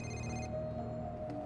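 Telephone ringing in the video game Marvel's Spider-Man Remastered, a short electronic ring tone that cuts off partway, then a low ambient hum, fairly quiet.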